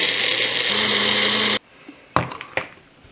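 A Magic Bullet blender whirs loud and steady while pureeing strawberries, then cuts off abruptly, followed by a few knocks and clatters as the cup is handled, close by with no talk.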